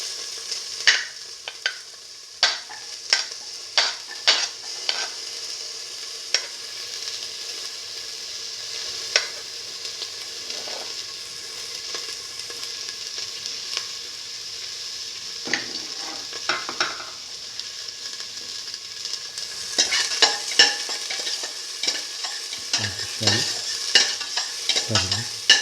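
Shallots sauté in a pan for a split pigeon pea and fenugreek dish, giving a steady sizzle broken by frequent sharp spatula clicks and scrapes against the pan, louder toward the end.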